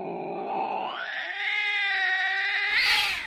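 Several cats yowl in a loud, drawn-out caterwaul with rising and wavering pitch, ending in a sharp, hissing burst, as a sound effect in a Japanese horror audio drama.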